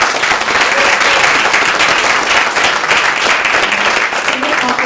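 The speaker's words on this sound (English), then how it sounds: "So round of applause." Steady, full audience applause from a room of people at a community census event, continuous clapping for about five seconds with faint voices mixed in.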